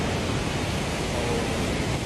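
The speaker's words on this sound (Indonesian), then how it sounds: "Sungainya ini memang deras," A fast-flowing river rushes steadily near a hidden waterfall on the Aceh–North Sumatra border, a constant broad roar with no breaks.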